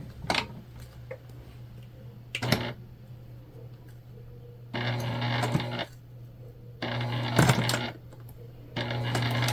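A sewing machine stitches fabric in short bursts, basting a seam on a candy bag. Quick clattering runs of stitching alternate with brief quiet pauses, close and moderately loud, with no talking.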